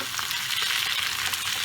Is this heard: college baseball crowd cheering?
no